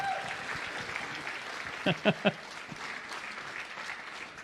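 An audience at a disclosure conference applauds as David Wilcock is brought on stage, with steady clapping under a hum of voices and a few louder, sharper claps partway through.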